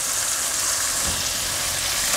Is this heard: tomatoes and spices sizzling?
yes